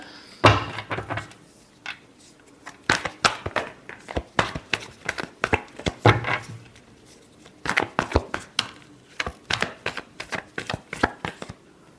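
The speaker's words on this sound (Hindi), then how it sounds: "last shuffle" Tarot cards shuffled by hand for a love reading, a run of sharp papery riffles and snaps in uneven bursts with short pauses, close and clear with no talking.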